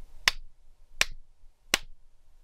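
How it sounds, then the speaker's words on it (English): Three sharp hand claps spaced evenly about three-quarters of a second apart, loud and close, used to mark a mistake during audiobook recording, with near silence between them. "you'll do that by clapping 3 times like this"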